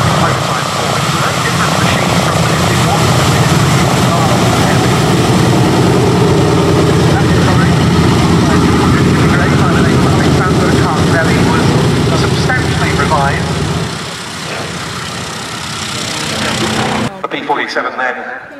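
A Republic P-47 fighter at an airshow, its big radial engine droning loud and steady overhead for most of the time before fading and cutting off, with a commentator speaking over it.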